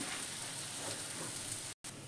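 Egg devil filling of mashed boiled potato frying in a pan, a steady close crackling sizzle throughout, briefly cut off near the end.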